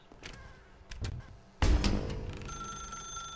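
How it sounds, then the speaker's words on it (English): A telephone rings in the video game The Stanley Parable, a repeating electronic ring that starts midway, continuing under a louder wash of game noise and scattered clicks. "phone's ringing"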